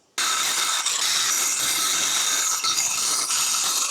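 A small hand saw cuts wood while guided along a straight edge, giving a steady, continuous rasping hiss at close range that runs unbroken for the whole stretch, with no talking.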